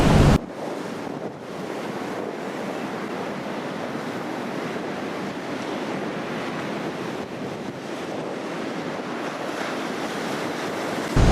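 Wind and surf roar steadily at Talia beach, with a continuous loud wash of waves and gusting wind buffeting the microphone throughout.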